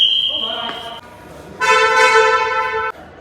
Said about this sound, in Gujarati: હોર્ન મારી પડે